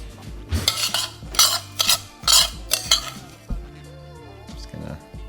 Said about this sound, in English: Just going to evenly distribute those panko crumbs as much as possible